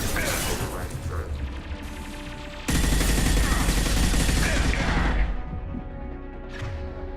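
A hacked turret firing in Mass Effect 2, rapid mechanical gunfire and impacts that surge loudly midway amid game music and effects, then taper off.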